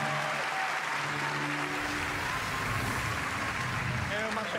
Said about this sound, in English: Please give a warm applause to Marc-Alessi Côté